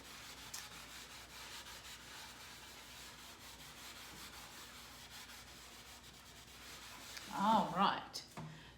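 An eraser rubbing letters off a board makes soft, continuous scrubbing under low room noise, then a few louder, closer strokes and bumps near the end.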